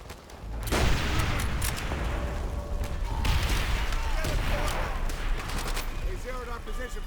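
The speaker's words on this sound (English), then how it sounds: "these bastards had the gall to call mortars in on us" Mortar barrage and gunfire in Call of Duty: World at War on Veteran difficulty: dense, continuous battle noise with repeated heavy blasts and rattling shots across the whole stretch, loud and close.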